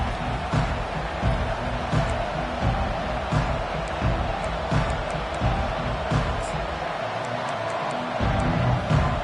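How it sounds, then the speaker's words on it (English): Stadium crowd in the NCAA 25 college football video game, a constant loud roar with scattered thumps and bursts of cheering, broadcast-style commentary voices talking over it. "Listen to the crowd energy here in the early going"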